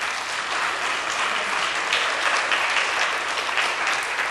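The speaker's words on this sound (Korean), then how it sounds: "하나님께 영광의 박수." A church congregation in a Korean service claps dense, sustained applause to God, steady and full throughout with no break.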